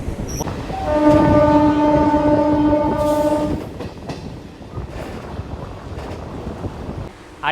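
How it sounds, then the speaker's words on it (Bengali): A Kolkata local train runs toward Tala station with a loud horn blast near the start. The wheels keep up a continuous rumble over the rails alongside wind buffeting the microphone. "আমাদের ট্রেনটা একটু পরে টালা স্টেশনে ঢুকবে"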